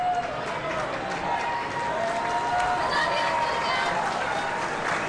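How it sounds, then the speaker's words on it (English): Braves fans at a preseason baseball game against the Red Sox give a warm round of applause, a broad crowd wash of clapping and murmur under a commentator's voice. "Acuna gets pinch run for here and gets a nice round of applause from the Braves fans"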